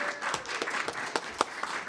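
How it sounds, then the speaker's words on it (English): Applause from an audience at a King County cultural candidate forum, honoring the question-writing team: a short spell of scattered, moderately quiet clapping with a few sharper individual claps standing out. "One more round of applause for the whole team."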